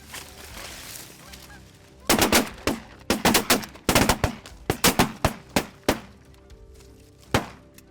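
Shotguns fire during a Canada goose hunt: a brief quiet stretch of distant honking and field noise, then a rapid ragged volley of about a dozen sharp blasts, closely spaced, with a final lone shot.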